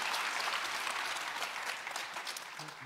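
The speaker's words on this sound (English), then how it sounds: "We can cheer for that a little bit." An audience at a baseball talk event claps and cheers in a dense, loud burst that tapers off over a few seconds.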